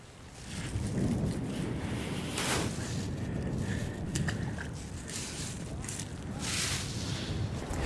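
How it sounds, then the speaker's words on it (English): Strong wind rushing and buffeting the microphone beside water while fly fishing in Yellowstone, a constant loud roar with gusty swells throughout, heard with no clear talk. "Well, obviously the wind is blowing like crazy."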